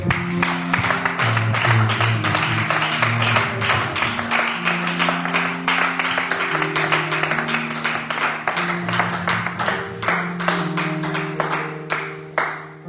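A church congregation applauds and acclaims God with sustained, steady hand clapping over held organ or keyboard chords, dense and close, slowly thinning toward the end.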